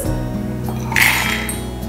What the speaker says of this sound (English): we'll start by putting all the dry ingredients together in the blender. We'll start with the cashews.